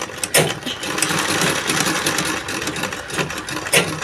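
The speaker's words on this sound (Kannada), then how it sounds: "ನಾನು ಮಿಷಿನ್ ವೀಲ್ನ ತಿರುಗಿಸ್ತಾ ಇದ್ದೀನಿ ನೋಡಿ" A zig zag sewing machine with its hand wheel turned manually, giving a steady close mechanical whirr with a few sharp clicks, fairly loud and without talking.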